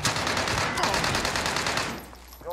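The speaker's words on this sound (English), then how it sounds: "Oh my god, he's got a shotgun!" Rapid bursts of shotgun gunfire in the Warzone video game, dense and loud for about two seconds before dropping off, with a voice faintly at the end.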